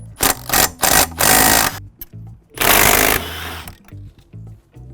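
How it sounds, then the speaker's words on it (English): A power tool tightens the coilovers on a project car in several loud, rattling bursts of a second or so each, separated by short pauses and quieter clatter, with no talking. "Just gotta tighten up those coilovers"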